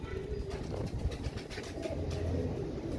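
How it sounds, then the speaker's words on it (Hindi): Imam Deen breed pigeons kept as a hobby, cooing softly in repeated low throaty pulses, close by with a continuous background hum and no talk. "ये इमाम दीन कबूतर का शौक करवा रहा हूँ"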